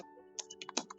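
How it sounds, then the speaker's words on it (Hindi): Typing on a computer keyboard while entering a purchase order in Tally Prime, a quick run of half a dozen close, soft key clicks with no talking. "यहाँ पे करूंगा कंट्रोल एंटर"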